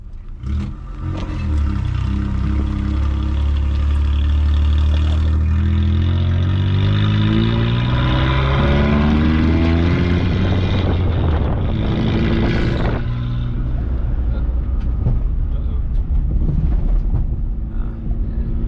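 A small Geo car's engine drones and revs steadily as it drives towing a jet ski, the pitch climbing as it accelerates, with wind buffeting throughout.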